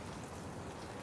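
Rain falls on a campsite during a rainstorm, a soft continuous patter of drops heard faintly and without any talking.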